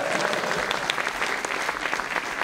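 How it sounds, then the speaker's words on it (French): A studio audience applauds continuously at a French comedy press-review show, dense steady clapping close by with scattered louder claps throughout. "Ouais, on peut l'applaudir!"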